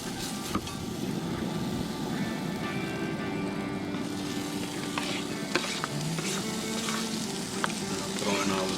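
Vegetables fry in butter in a pan on a camp stove outdoors, a steady loud sizzle and crackle that runs unbroken with occasional small pops and stirring scrapes.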